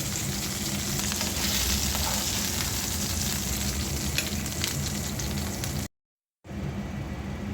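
Fish fries in hot oil with a dense, loud, continuous crackling sizzle that runs unbroken, then cuts to a brief silence before the sizzle resumes.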